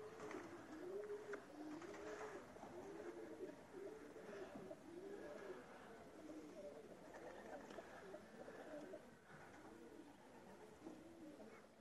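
Several pigeons coo in repeated soft, rolling calls, overlapping steadily against a quiet background hiss.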